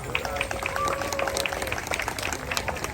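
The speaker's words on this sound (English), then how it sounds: "let's give another round of applause for her" An audience at a Hmong New Year celebration applauds in a dense, sustained wash of clapping, with crowd murmur and voices underneath.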